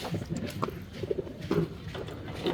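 Breeder pigeons coo softly in a Taiwan-style loft in Porac, Pampanga, giving a few low, faint coos close by with a little background noise.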